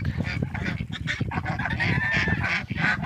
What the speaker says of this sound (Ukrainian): Оце качер, а це всі качечки.